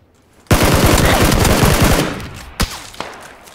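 Automatic gunfire bursts out loud in PUBG, a dense rapid rattle lasting about a second and a half, followed by two sharp isolated shots after a brief lull.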